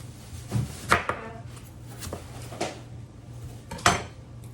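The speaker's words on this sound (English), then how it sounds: "And now I'm going to chop up some onion." A knife chops red onion and broccoli on a cutting board, with a handful of distinct, close, moderately loud chops at uneven intervals over a low background hum.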